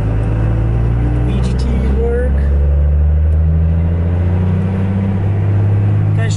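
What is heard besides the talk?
2nd gen Cummins truck driving on a test drive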